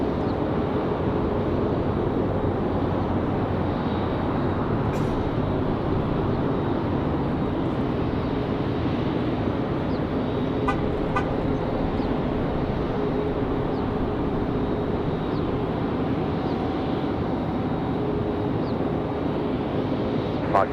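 A Southwest airliner takes off from runway 5 right at Raleigh-Durham International on a windy day: a steady, broad engine roar mixed with wind buffeting holds for the whole stretch, with no pauses and no voices.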